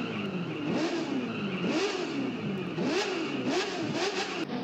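A video-game motorcycle with dual exhausts revs repeatedly in a steady rhythm, each rev climbing and falling back. Five or six throttle blips come through clearly with no talking over them.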